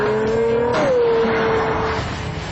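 A 650-horsepower Pagani Zonda F sports car accelerates hard, its engine note climbing loud and close, then dipping sharply at a gear change and pulling again before easing off.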